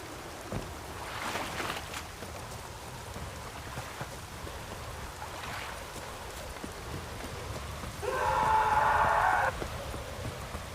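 Rain in The Witcher 3: Wild Hunt falls as a steady soft hiss with faint patters, holding at a low, even level, with a brief louder tonal burst near the end.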